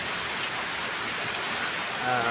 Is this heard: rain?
yes